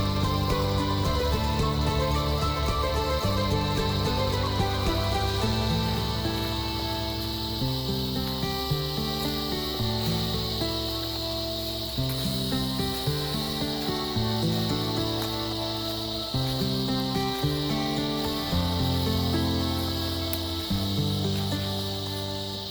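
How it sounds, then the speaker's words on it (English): Cicadas calling in a Sri Lankan jungle, a loud, steady high buzzing drone that fills the air, with a lower layered chirring pulsing beneath it, continuous and free of speech. "Again, the cicadas can be heard loudly."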